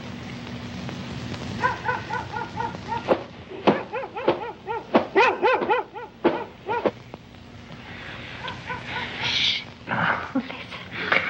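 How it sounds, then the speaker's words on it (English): A dog barks in bursts, several sharp woofs in clusters separated by pauses, fairly close, with some rustling and a faint voice near the end. "I'm telling you, it's only the dog."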